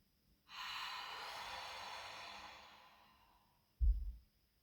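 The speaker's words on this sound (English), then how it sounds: "take a deep breath into it" One long, slow, audible inhalation lasts about three seconds and fades out, then a short, forceful breath or snort follows, close and quiet.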